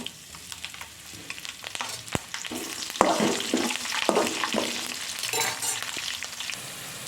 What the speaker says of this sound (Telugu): జీడిపప్పు కొద్దిగా వేగాక పచ్చిమిర్చి వేసుకుందాం.